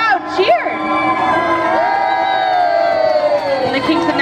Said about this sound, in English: the crowd cheered